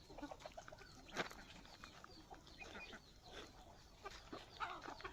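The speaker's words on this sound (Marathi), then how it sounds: "हा कोंबडा आहे बघा, हा आपला फार्म आहे।" Rooster on a village farm, crowing and clucking amid lively outdoor bird and farmyard ambience, moderately close with no talking.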